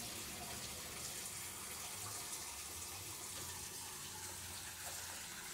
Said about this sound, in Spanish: Ahora va a empezar a venir agua, va a empezar a brotar.